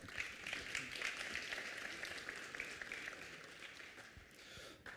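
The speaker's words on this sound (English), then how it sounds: "A big applause for Stefan" Audience applause at an energy conference, a steady wash of clapping from a seated crowd that holds fairly even for several seconds before thinning near the end.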